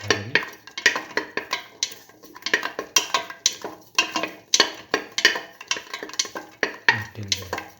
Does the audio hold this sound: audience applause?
no